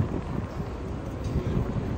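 Steady low wind rumble buffeting the microphone outdoors at the Calgary Zoo on a hot day, continuous and fairly close, with no other distinct sounds.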